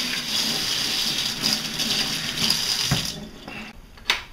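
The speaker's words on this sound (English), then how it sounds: "you want to wash your hands for health reasons" Tap water runs steadily into a sink while hands are washed under it, a continuous close splashing hiss that fades and stops near the end, followed by a brief clatter.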